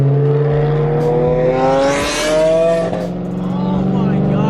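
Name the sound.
loud sports car engine revving at a car meet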